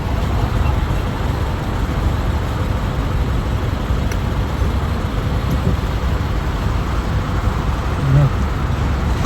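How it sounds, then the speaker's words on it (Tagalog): Heavy road traffic beside a shopping mall in the Netherlands, a dense continuous rumble of cars and engines that stays loud throughout with no distinct passing vehicles. "Napaka-traffic!"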